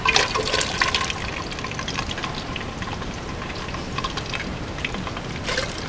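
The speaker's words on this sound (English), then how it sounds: "Gotta dump the water off." Water poured off a pot of potatoes before cooking fries, a continuous splashing gush that starts loud and then settles into a steady pour.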